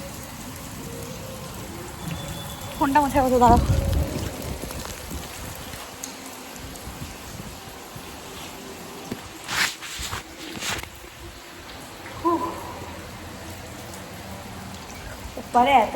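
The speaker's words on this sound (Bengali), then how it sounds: "বৃষ্টি হচ্ছে" Steady patter of rain falling on a rooftop in the background, with a few brief bursts of speech and occasional footsteps or bumps nearby.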